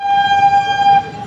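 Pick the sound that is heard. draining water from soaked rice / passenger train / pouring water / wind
passenger train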